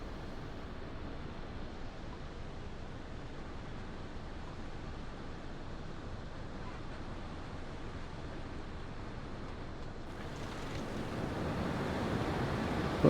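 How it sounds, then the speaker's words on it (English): Wind blowing at sea in the submarine game UBOAT, a steady roaring rush with a wave-like wash that swells slightly louder toward the end. "Oh, it's quite windy."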